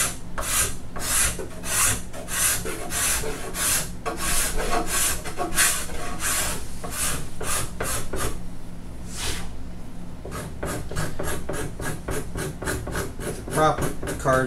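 Steel card scraper working a wooden guitar neck, repeated rhythmic scraping strokes close up, each a short rasping burst, steady and alone.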